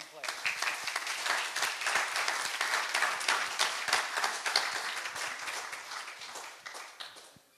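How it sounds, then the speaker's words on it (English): Congregation clapping during a Sunday morning church worship service, a dense steady patter of many hands filling the room with voices mixed in, fading near the end. "Y'all give the Lord a great big hand clap."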